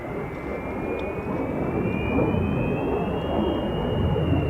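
Jet aircraft passing overhead at an RAF base, a KC-135 tanker or C-5 transport: a loud continuous roar with a slowly rising whistling tone riding above it, swelling slightly as it nears.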